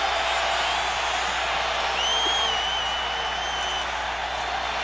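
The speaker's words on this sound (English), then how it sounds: "The crowd on its feet." A football stadium crowd in 1984 cheering as the Rams face San Francisco, a broad sustained roar of many voices with scattered whoops and whistles rising above it, constant and fairly loud.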